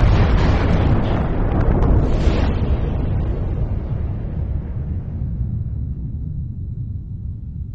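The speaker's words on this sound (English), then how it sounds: "They call it a supernova, an explosion so bright it outshines entire galaxies." A supernova explosion rendered as a deep, rumbling blast, loud and broadband from the start and then slowly fading into a low roar over several seconds with no voices.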